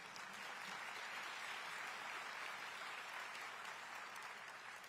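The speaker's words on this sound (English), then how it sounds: "And we should clap about that." Steady applause from an audience at a county State of the County address, a dense even wash of clapping sustained throughout, fairly distant and soft.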